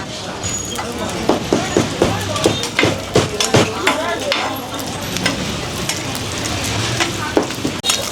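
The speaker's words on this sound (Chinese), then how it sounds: "这个是送铁板煎的" Breakfast food sizzles on a hot iron griddle at a Chinese street stall, a constant frying hiss under sharp metallic scrapes and taps from a spatula, with people talking nearby.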